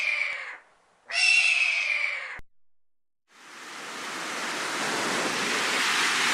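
A steady, dense roar of a New Zealand waterfall builds up and holds, broad and continuous, after a couple of brief bursts of wind-like noise.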